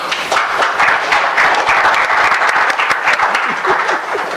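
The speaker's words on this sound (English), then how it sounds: "I will ask you to give them a round of applause" Conference audience applauding a panel, steady, dense clapping from many hands that fills the room throughout, with no speech over it.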